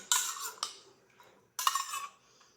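A spoon clinks and scrapes in a bowl, mixing coconut oil with lemon juice, in two close bursts of metallic stirring separated by a brief pause, with no talk.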